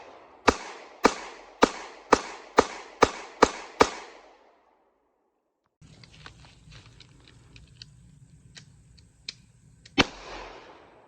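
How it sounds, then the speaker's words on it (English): A Dragon's Breath shotgun shell is fired among a string of sharp, loud shotgun blasts: eight quick reports in a row, a silent pause, low handling noise and clicks, then one more close blast near the end. "That was Dragon's Breath."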